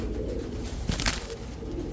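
Pigeons coo at a pigeon sale, a steady low murmur of calls close by with a brief louder flutter near the middle, continuing throughout.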